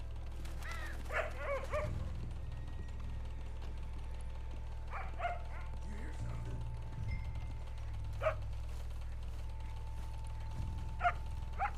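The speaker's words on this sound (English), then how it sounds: "Also, I hear a dog barking." A dog barks in the Red Dead Redemption 2 game world, a few scattered yips and barks at moderate distance over a constant low hum.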